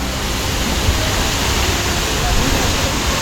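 Water gushing from a fountain with horse statues in Moscow, a loud, steady rushing wash of spray and splashing that holds without a break for the whole stretch.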